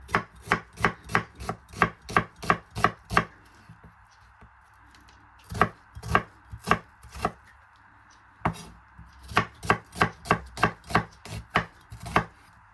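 A knife chops an onion on a cutting board for an avocado mango salad, quick steady runs of sharp close taps separated by brief pauses, no talking.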